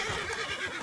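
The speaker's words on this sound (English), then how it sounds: "Your horse is agitated by a predator." In Red Dead Redemption 2, an agitated horse sensing a predator lets out a sustained, fairly faint whinny that wavers throughout.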